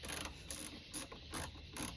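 A ratchet clicks while backing out a ground bolt on a truck, with short bursts of rapid metallic clicking repeating in a quick rhythm at close range.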